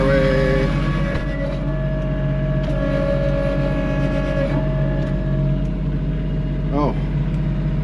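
A Kubota tractor's engine works steadily as its wheels spin to get unstuck beside propane tanks; a continuous mid-pitched motor drone shifts pitch slightly over several seconds while people talk over it.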